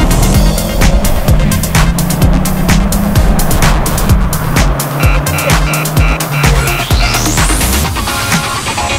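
Mazda 6 MPS with all-wheel drive pulling hard through a 0-100 km/h run, loud engine and road roar with rising revs and gear changes, steady and close throughout.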